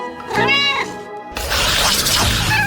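A pet cat meows close by, a single drawn-out meow followed by a second rougher cry with background noise, in a home setting.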